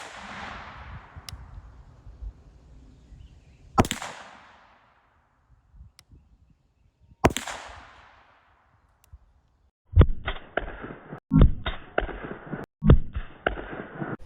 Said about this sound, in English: So let's go ahead and shoot this thing and see what 9mm out of a carbine will do.